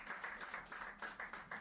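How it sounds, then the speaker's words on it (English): Applause from a meeting audience welcoming the next speaker at a family legacy and trustees event: steady, fairly faint, rhythmic clapping from a crowd, with no talk over it. "A round of applause for Kunle Odebiyi."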